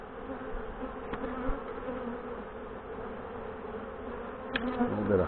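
Honey bees buzz steadily around an open beehive during a hive inspection, a close, continuous droning hum with a couple of brief knocks and rustles near the end.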